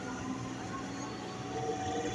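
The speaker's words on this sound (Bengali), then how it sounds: "আমাদের ট্রেন" Chennai suburban local train running, a steady broadband rumble and rattle of the carriages heard from inside, continuous throughout with no clear talk.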